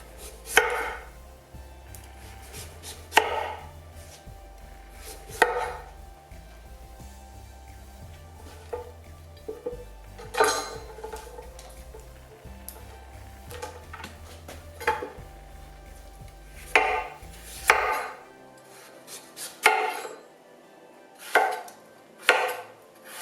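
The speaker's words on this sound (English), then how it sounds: "if your knife is sharp enough, you just go right to the edge and you can take the skin right off" A sharp knife slices the skin off a butternut squash on a cutting board, giving crisp, close chopping knocks in irregular bursts with pauses between cuts and no talk.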